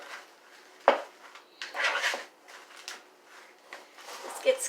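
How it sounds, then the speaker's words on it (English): A spoon works through a stiff mixture in a bowl with several uneven scraping strokes and a sharp knock against the side, close and fairly quiet, with no talking. "This gets kind of stiff to stir."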